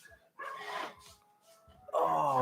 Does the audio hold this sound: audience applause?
no